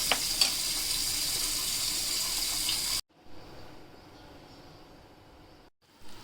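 Raw mango dal soup boils in a pot, first as a close, hissing, bubbling rush for about three seconds, then as a much fainter simmer with a brief louder burst at the end.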